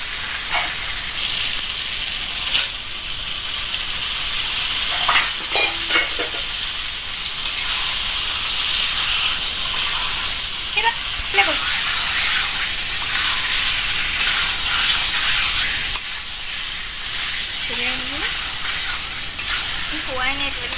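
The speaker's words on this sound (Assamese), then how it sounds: "এতিয়া তেল ওলাইছে, আৰু এনেকুৱাতে মই মাংসখিনি দিম" Local chicken meat frying with spices in hot oil, a loud close sizzle with steady bubbling and occasional stirring scrapes and clatter across the whole stretch.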